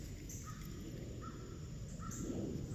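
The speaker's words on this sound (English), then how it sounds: "day 6 of befriending the crows." Crows caw in a backyard, three or four separate calls spaced across a few seconds, fairly distant and soft over a steady outdoor hum.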